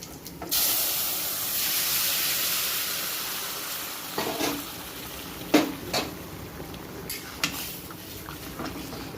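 A loud burst of hissing sizzle as bottle gourd hits hot oil with panch phoron spices in a kadai, settling into a steady fry, then several clanks of a spoon stirring the pan.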